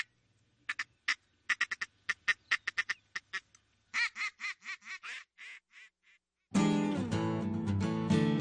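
Ducks quack during a prairie duck hunt, a burst of sharp, rhythmic quacks close by followed by a slower descending series, then the calls give way to loud music.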